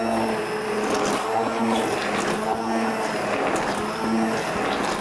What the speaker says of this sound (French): je vais le mélanger avec ma petite mixette ici